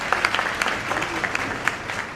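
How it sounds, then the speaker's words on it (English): A seminar audience claps for a guest called up to the stage, a moderately loud, even patter of many hands with a few sharper individual claps standing out. "Ladies and gentlemen, huge round of applause."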